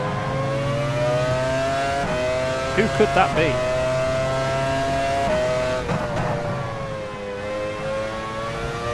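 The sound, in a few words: F1 race car approaching from behind, video game F1 Challenge 99-02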